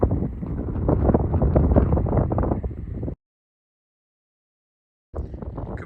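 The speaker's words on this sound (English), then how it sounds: "The wind's still out, but I'm slightly out of it now." Strong wind buffets the microphone on the South Downs Way hiking trail, a loud, rough roar that cuts out abruptly into silence for about two seconds before gusting back in at the end.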